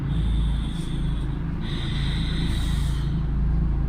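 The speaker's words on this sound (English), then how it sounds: "What's that breathing?" Heavy, slow breathing close to the microphone, with a couple of rasping, snort-like exhales over a low steady rumble, no talking.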